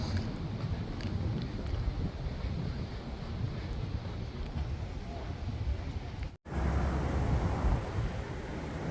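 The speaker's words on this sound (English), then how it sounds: "Nice breeze blowing through this tunnel." A steady breeze pushes through a cool rock tunnel along the Pacific Crest Trail near Bend. It buffets the microphone with a dense, continuous rushing roar that cuts out for an instant and then returns just as strong.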